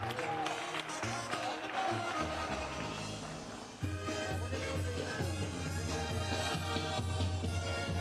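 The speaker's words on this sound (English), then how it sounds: "big round of applause for his opponent from Guadalajara, Jalisco, Cristian El Muñeco Vasquez" Crowd at a boxing event applauding a fighter from Guadalajara, Jalisco, dense clapping and cheering under loud arena music and announcer-style talk throughout.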